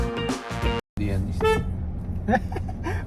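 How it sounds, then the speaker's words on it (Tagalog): A brand-new Hyundai Elantra's horn honks loudly nearby, a steady blare cut off abruptly, followed by road and engine noise with brief tones. "First busina in my life."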